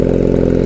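Honda Rebel 250 motorcycle engine with a cut exhaust, a close, loud, throbbing roar with a rapid steady pulse filling the short moment on its own.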